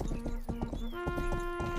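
Rhythmic clip-clop of horse hooves in the video game Rustler over steady game-like tonal music, a quick even trot with no voices.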